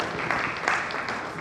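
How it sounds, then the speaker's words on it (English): An audience at a business-to-business event applauds as a guest walks to the stage, a brief burst of crowd clapping with some voices mixed in. "Let's give him a round of applause as he comes to the stage"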